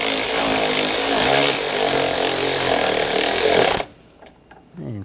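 Power tool driving screws into the crankshaft position sensor cover on a 2009-2013 BMW 328i xDrive 3.0L I6, a loud steady whirring buzz lasting several seconds that cuts off abruptly into quiet, close to the listener.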